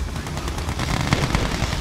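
Rapid gunfire and artillery bursts from the real-time strategy game Yuri's Revenge, played on the Allied campaign: loud, dense volleys of shots overlapping in quick succession, with no talk.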